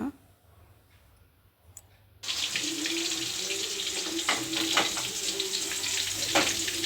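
Chicken kebab frying in hot oil on a low flame in a home kitchen: a steady crackling sizzle starts abruptly after a quiet opening and continues close and even, with scattered pops and no talking.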